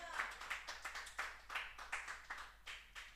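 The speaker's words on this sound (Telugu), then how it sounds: "చప్పట్లు కొట్టండి ఒకసారి." A church congregation claps in a steady rhythm, with faint, evenly spaced beats heard from a distance.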